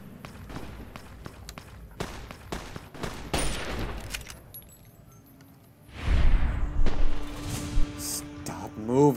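In Fallout: New Vegas, gunfire pops off in short, sharp shots alongside footsteps and game noise. A louder, denser clatter of action follows, mid-distance and fairly strong.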